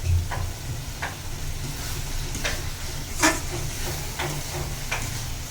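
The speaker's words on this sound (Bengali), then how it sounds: "এই মশলার ভিতরে চিংড়ি মাছটি দিয়ে ভালোভাবে নাড়িয়ে নিতে হবে 5-6 মিনিট" Prawns stir-fried in a spice masala give a steady hiss and sizzle, broken by light ticking scrapes of stirring and one brief louder clatter partway through.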